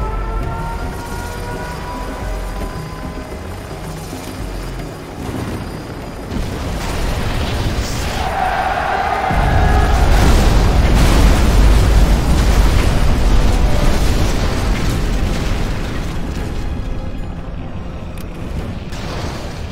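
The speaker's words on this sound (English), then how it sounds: "We have launched our nuclear missile." A nuclear missile explodes in the video game Command & Conquer: Generals Zero Hour, a loud rumbling blast that swells midway and roars on for several seconds amid battle noise.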